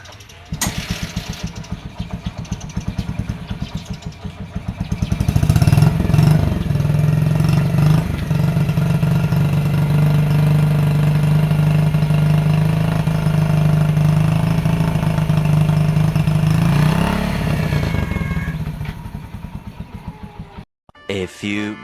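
A second-hand Kawasaki Bajaj CT100 motorcycle engine runs nearby, idling with a steady low throb and rising into loud revving in the middle before settling back, with voices talking over it at times.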